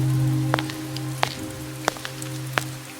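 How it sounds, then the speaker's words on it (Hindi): Steady rain falls with a constant hiss and a low hum underneath, while a few sharp drip or tap sounds land at regular intervals, close and clear with no voices. "थोड़ी ही देर के बाद बारिश शुरू हो जाती है"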